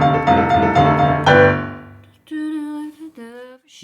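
Piano playing a passage from a rock and roll song, a dense chordal run up front followed by a short gap and a few separate sustained notes sliding between pitches, close and clear with no talk.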